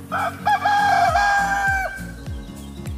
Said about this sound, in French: on enchaîne avec le coq